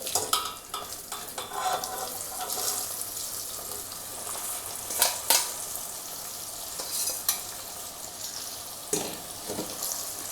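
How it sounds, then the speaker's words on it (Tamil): Gooseberries (amla) frying in a pan with a constant sizzle, broken by repeated scraping and clinking stirs of a spoon against the pan, several louder bursts along the way, no speech. "நல்லா மிக்ஸ் பண்ணி விட்டுட்டு ஒரு 2 நிமிஷம் வந்து இந்த நெல்லிக்காய் நல்லா வதங்கட்டும்."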